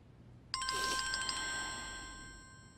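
A phone starts ringing abruptly with a bright electronic chime, a few quick pulses that then ring out and slowly fade.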